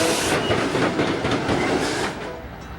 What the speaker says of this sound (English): a Burlington Northern Cascade Green SD40-2 leads a Heritage 2 and a War Bonnet-9